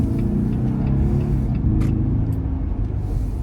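A Jeep Gladiator's engine and exhaust pull hard under acceleration, a loud, close, continuous deep rumble with throaty exhaust tone holding steady, with no talking.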